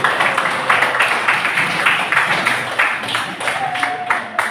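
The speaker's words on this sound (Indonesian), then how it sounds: "Kasih aplaus untuk Peggy" A classroom audience applauds a student's presentation with steady, rhythmic clapping from several people nearby, lasting a few seconds.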